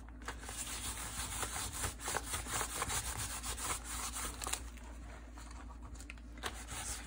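Brown paint is rubbed into a sketchbook page by hand, making a steady, close scratchy rubbing with repeated back-and-forth strokes, quiet and continuous with no talking.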